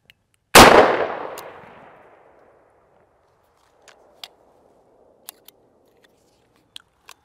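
One loud, close blast from a Taurus Judge revolver firing Remington HD triple-aught buckshot in a 3-inch magnum shell booms, then decays over about two seconds. A few faint, sharp clicks and taps follow in quiet.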